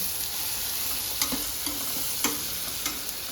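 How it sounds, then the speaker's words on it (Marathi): Turmeric, red chili powder and kala masala are stirred in hot oil in a pan for masoor dal khichdi, a steady sizzle broken by several sharp spoon scrapes about once a second. "सगळं चांगलं हलवून घ्यायचं"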